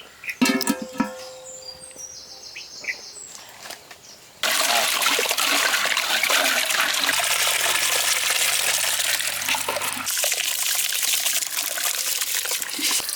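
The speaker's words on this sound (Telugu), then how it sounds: "గంట సేపు నానబెట్టుకుని శుభ్రంగా కడుక్కున్న కందిపప్పుని బియ్యాన్ని ఈ వేడి నీళ్ళలో వేసి బాగా మెత్తగా ఉడకబెట్టుకుందాం" Soaked toor dal and rice dropped into hot water for a Karnataka bisibele bath: a few quiet splashes and trickles, then a loud, steady rushing wash of water that continues close by.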